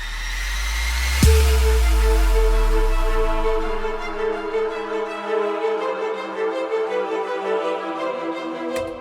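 A deep cinematic impact booms at the start, then orchestral strings and choir carry on in sustained, layered chords, fading after the hit and holding steadily until a sudden stop.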